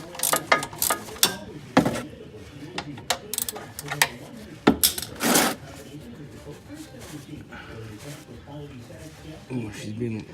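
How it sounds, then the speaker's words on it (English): A ratchet works loose the oil drain plug bolt under a car during an oil change, giving a run of sharp clicking bursts that come and go at close range, with people talking between them. "Now you just put your ratchet on there. Loosen up that bolt, that plug that's in there."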